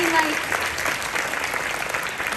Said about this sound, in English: Let's hear a little applause for Kylie.